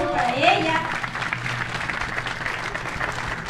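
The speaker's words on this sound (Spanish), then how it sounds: "así que un fuerte aplauso para ella" Applause from a beauty pageant audience greeting the winner, a steady wash of clapping with a voice heard briefly over it near the start.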